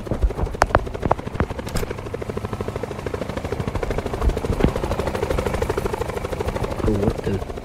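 A helicopter is heard with a rapid, steady rotor chop that persists throughout, moderately loud, mixed with a few sharp clicks and bumps and some background talk.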